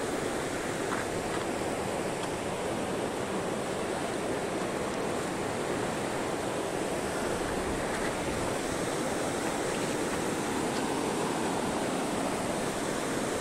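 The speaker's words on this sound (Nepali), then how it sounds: "खोला चाहिँ पुरा मजाले बगेर छ है पुरा स्पिडमा" A fast-flowing mountain river on the Helambu trek in Sindhupalchok rushes in a constant, loud, broadband roar of churning water with no breaks.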